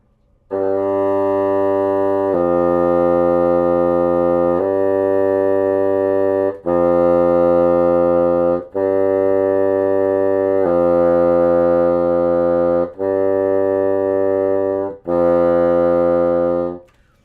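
A bassoon holds a series of low, reedy sustained notes, about eight in a row, each separated by a short break.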